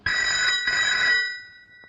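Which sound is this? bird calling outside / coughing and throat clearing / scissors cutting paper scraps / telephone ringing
telephone ringing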